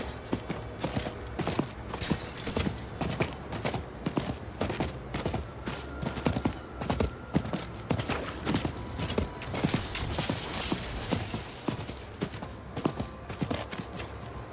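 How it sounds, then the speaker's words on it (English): Steady hoofbeats clip-clop in a quick, even rhythm throughout, a horse trotting in the video game Diablo IV at moderate volume with no voices. "Oh, the horse effect."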